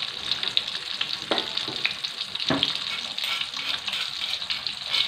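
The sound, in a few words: frying spices in a pan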